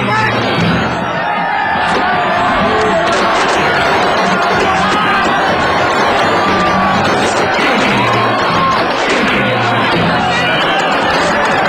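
Brazilian football fans roar as the team bus arrives, celebrating promotion to Série A: a loud, continuous crowd din of cheering and shouting with scattered bangs and thumps, filling the whole stretch without letup.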